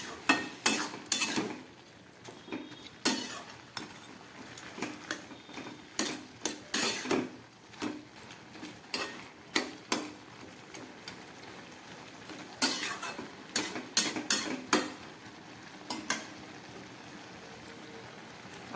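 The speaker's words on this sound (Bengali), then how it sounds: "আবার ভালো করে নেড়ে চেড়ে কষিয়ে নিচ্ছি।" Lentil fritters with pumpkin greens are stirred and fried in a pan. Close metal spatula clinks and scrapes come in irregular bursts with short pauses, and nobody talks.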